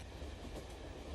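A train rumbles along the track with a steady, close, continuous roar and faint rhythmic clatter underneath, brief and without voices.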